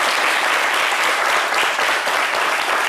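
A television studio audience applauds to welcome a guest onto a midday talk show set: thick, continuous clapping from a large crowd, loud and even throughout, with no one speaking over it.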